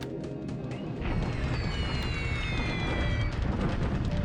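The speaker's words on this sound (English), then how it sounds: "Doing some ground bombing here at Samarinda as well, but these glints get destroyed by flak" Loud continuous rumbling explosions and crashing blasts from ground bombing and flak in a WWII Pacific naval strategy game, swelling after a quieter start and sustained throughout.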